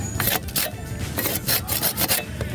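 Rhythmic back-and-forth rasping of a hand saw cutting wood, loud and close, strokes repeating steadily with no voices.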